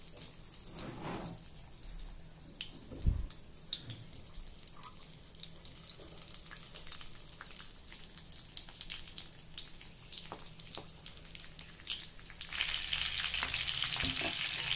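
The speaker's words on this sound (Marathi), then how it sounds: "आता आपण त्याच्यामध्ये मिरची टाकणार आहोत" Stuffed green chilies frying in hot oil, a steady crackling sizzle close by with occasional stirring clatter and a heavy clunk early on, the hiss swelling brighter and louder toward the end.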